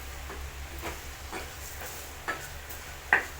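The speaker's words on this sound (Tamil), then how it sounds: "கொஞ்சம் லைட்டாக வதக்கி விட்டுக்கலாம்." Quiet, soft sizzling of spices sautéing in a pan for a banana flower curry, with a few faint scraping stirs, the last two a little sharper, over a low steady hum.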